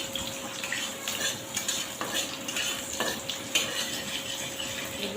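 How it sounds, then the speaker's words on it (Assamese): Onions frying in a pan for a chicken dish, stirred with repeated scraping and clattering strokes over a steady low sizzle, close and moderately quiet. "তাৰপিছত মই পিঁয়াজখিনি এনেকৈ লাৰি দিছোঁ।"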